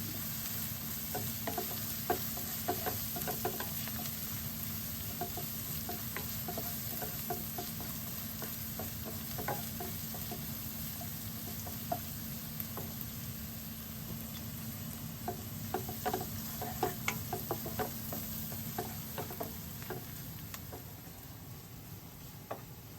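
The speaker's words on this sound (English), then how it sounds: "So I'm going to add the curry leaves." Curry leaves fry in hot oil for a bitter gourd pickle, a steady sizzle with frequent crackles and pops and occasional stirring taps against the pan, fairly quiet and without talk.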